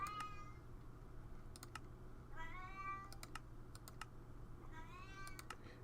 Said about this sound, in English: And my cat is going nuts.